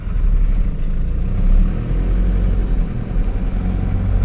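An Isuzu D-Max 3000 turbo pickup pulling away in first gear, its diesel engine giving a loud, steady low rumble with a slight swell in revs partway through.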